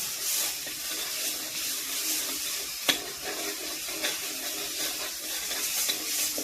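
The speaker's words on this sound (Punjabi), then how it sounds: "ਦੇਖੋ ਜੀ ਇਹ ਆਪਣੀ ਗ੍ਰੇਵੀ ਆ ਭੁੱਜ ਰਹੀ ਹੈ" Tomato gravy for kadai paneer frying and being stirred in a kadai, a soft steady sizzle with scraping spoon strokes and one sharp clank midway, close and moderately quiet.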